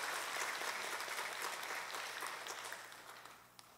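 A church congregation claps warmly, a dense patter of many hands that gradually thins and fades away.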